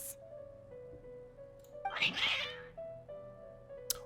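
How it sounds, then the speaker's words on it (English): Cats meow in the video game Genshin Impact, a couple of clear mid-pitched meows, the second one longer, close and distinct over soft game music. "Oh, kitties!"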